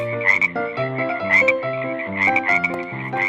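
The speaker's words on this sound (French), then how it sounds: "Des milliers de grenouilles sortirent du fleuve." Frogs croak in a dense, rhythmic chorus, loud and close, with repeated pulsing calls overlapping continuously and no voices.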